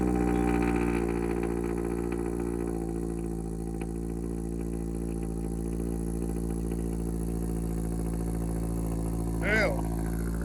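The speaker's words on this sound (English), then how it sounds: "Let's go ahead and start the car and see how loud this thing is" Toyota GR86 with an AWE Touring catback exhaust idling after a cold start, a steady low drone with fairly high idle, and a brief voice near the end.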